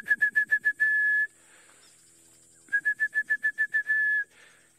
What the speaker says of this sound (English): You can hear a black-headed oriole.